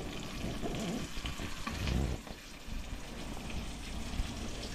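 Tomatoes frying in a pan give a continuous close sizzle with bubbling crackles and occasional stirring bumps, no one speaking over it.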